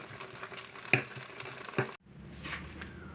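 Pasta sauce cooking in a skillet, sizzling and bubbling steadily with a few sharp utensil clinks, then briefly cutting out before the simmering hiss resumes, close and moderately loud with no voices.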